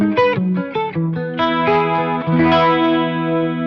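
Electric guitar through the detune effect of a Zoom MS-100BT multi-effect pedal, a shimmering, slightly doubled tone over a run of clean picked notes leading into sustained ringing chords, loud and close with no talking.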